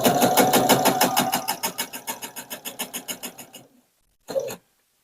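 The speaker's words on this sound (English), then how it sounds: "This part I'm sewing really close to the edge of the fabric because it's going to be trimmed" A sewing machine quilting right along the fabric edge runs in a fast, even rhythmic stitching burst that slows and stops, followed after a pause by one more short run, close and loud.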